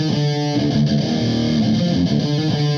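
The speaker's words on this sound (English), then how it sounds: "The distortion pedal I'm going to be using is this Black Clouds distortion pedal." Electric guitar played through a Black Clouds distortion pedal made by DSM Humboldt Electronics into a Marshall Valvestate 8100 amp, giving a loud, dark, mid-heavy distorted tone with sustained chords and no talking.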